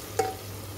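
Masala for Uttar Pradesh-style mutton shorba, roasted for many minutes with water added, gives a brief stir and soft sizzle in the pan, one short scrape near the start over a low steady hiss.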